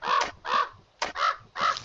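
A crow in a farming video game caws four times in steady rhythm, loud and close, with nothing else heard.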